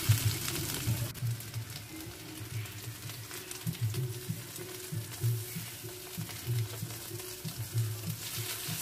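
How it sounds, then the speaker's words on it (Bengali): Chopped onion, garlic and ginger frying in oil in a pan for a Bengali cabbage dish, a soft steady sizzle with faint scraping stirs, close and quiet. "রসুন, আদা ভালো করে পেঁয়াজের সঙ্গে ভেজে নিই।"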